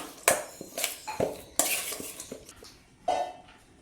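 A spoon clinks and scrapes against a bowl while chopped carrot is mixed with a pinch of salt for chicken cutlets. The sharp knocks come at uneven intervals, close and fairly quiet.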